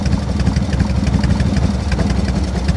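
A Harley-Davidson engine with a Super E carburetor idles in a close, loud, steady lumpy rumble, its low pulses thumping in an even uneven-beat rhythm throughout, with no talking over it.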